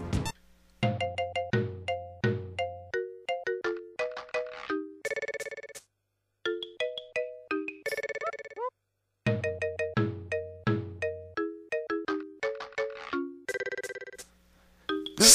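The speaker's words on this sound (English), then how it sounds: "This is a humorous song that plays when the game starts going for a lighthearted scene" A humorous, bouncy chiptune melody from Final Fantasy 6 on the SNES, with short, clipped synth notes over a plucked bass line in a playful rhythm. It plays loud and alone, broken by a couple of brief pauses.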